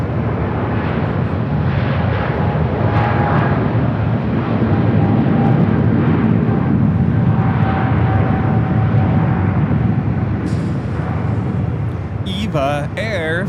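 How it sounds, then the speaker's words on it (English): An Eva Air Boeing 777-300ER takes off at LAX, a loud, sustained jet roar filling the whole stretch with a faint whine above it, and voices speaking over the engine noise. "Eva Air Flight 15 taking off to Taipei on the 777-300ER"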